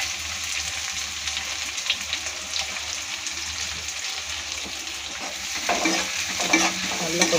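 Chopped big onions sizzle and fry steadily in hot oil while a spoon stirs through them, a continuous close crackling hiss for a home-cooked chicken gravy, growing slightly busier toward the end, no talk.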